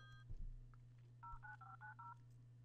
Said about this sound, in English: there's the tritone